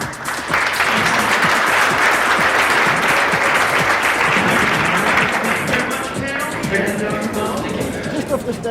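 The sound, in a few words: audience applause for the panel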